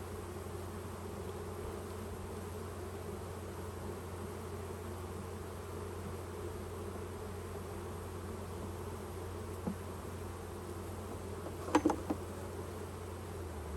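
A swarm of more than 20,000 honey bees is being moved from a tree into a permanent hive, giving a steady low hum throughout with a few brief clicks and knocks near the end.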